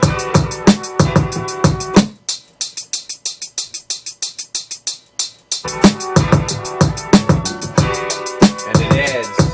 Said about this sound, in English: if you listen to our hi-hats,